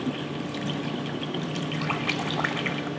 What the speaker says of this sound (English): I can easily pour it right into the bottle without any spillage